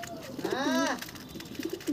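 A Madras pigeon in a loft gives a single soft, close coo, a rounded warbling call standing briefly above the quiet background.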